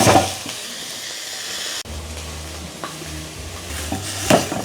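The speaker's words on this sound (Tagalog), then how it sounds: "Dito naman natin sa kawali, papabanguhin yung parting karne niya." Pork pata searing in a frying pan (kawali), a hissing sizzle with clinks and scrapes of the pan and utensils, close and fairly loud, with a brief break partway through and no speech.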